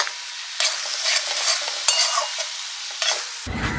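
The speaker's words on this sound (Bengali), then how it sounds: "এবার এটা ভালো করে ভাজা ভাজা করতে হবে" A thick poppy seed paste sizzles and crackles in a hot pan while a spatula scrapes and stirs it in bursts.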